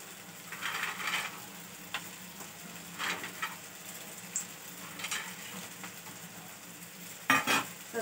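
Kebabs and onions frying in a pan, a low sizzle broken by repeated spatula scrapes and stirring clatter, with one sharper clatter near the end.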